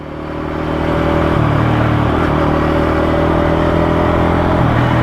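A Yamaha MT-15 150cc motorcycle engine runs steadily while riding, a loud continuous drone with shifting harmonic tones as the revs rise and fall, heard close throughout.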